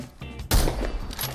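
A single sharp gunshot bursts out in the battle royale shooter Apex Legends, loud and close after a quiet lead-in, with a short ringing tail.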